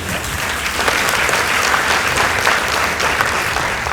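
Steady, dense applause fills a school debate hall for an academy team as its score is announced, loud and sustained throughout with no voices on top.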